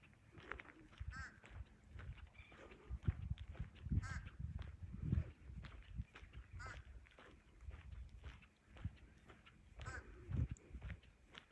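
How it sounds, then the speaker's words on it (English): Ducks quack in a marsh at sunset, a scattered series of nasal calls and honks, some nearer and some farther off, over a quiet, breezy outdoor background with no talking. "There's nothing as peaceful, I don't think, as being out in the marsh hearing the birds."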